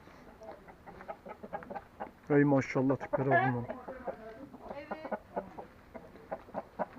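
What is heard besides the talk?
English fighting roosters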